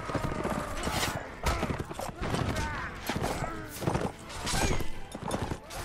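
Horse hooves clop on the ground in a Mount & Blade: Warband Imperial Rome mod battle, a steady run of hoofbeats amid clashing combat noise, with voices in the mix.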